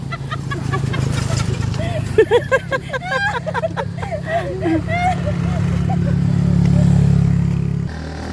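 A motorcycle engine labours uphill on a steep rural trail, a steady low drone that swells and grows louder toward the end, with clattering and people talking over it.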